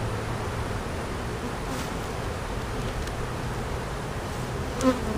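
Agitated honeybees buzz steadily from a nuc box as it is closed up during swarm-prevention work, a dense, continuous hum held close throughout with one brief louder knock near the end.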